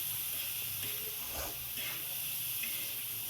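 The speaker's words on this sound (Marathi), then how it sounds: "हा कांदा परतून घ्यायचा" Onions sauté in a pan with a soft, steady hiss and sizzle, quiet and close, with a couple of faint stirring swells.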